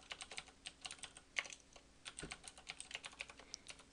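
Rapid typing on a computer keyboard, a steady run of close, crisp key clicks with short pauses and no talk, while entering code during Android app development.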